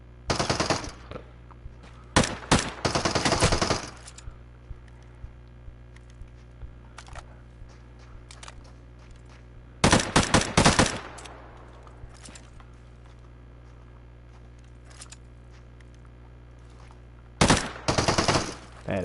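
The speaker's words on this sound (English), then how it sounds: "Man, this gun's jamming on me, though." Automatic weapon fire in a video game, with a gun that keeps jamming: short loud bursts of rapid shots separated by long quiet stretches of low hum and faint clicks, the firing stopping and restarting several times.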